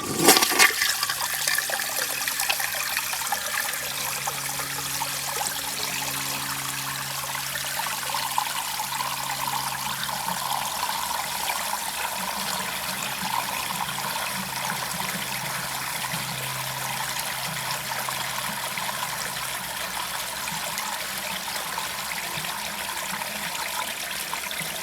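A 1980 Eljer Emblem toilet with an overfilled tank flushes with a sharp start, then a long steady rush of water drains and refills, trickling on close by without any voices.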